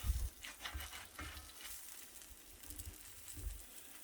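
A grilled cheese sandwich fries in a buttered pan as it is moved around, producing a faint, soft sizzle with occasional low scraping and shuffling sounds.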